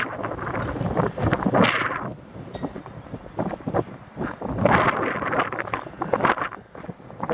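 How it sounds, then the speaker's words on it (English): Strong gusts of wind buffet the microphone in loud, uneven rumbling bursts that rise and fall throughout, outdoors in Austin, Nevada. "we're sorry if it's windy and my words have gotten cut out"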